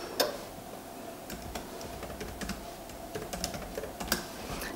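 Quick bursts of typing on a computer keyboard, close up, with crisp key taps over a constant low background hum and no speech.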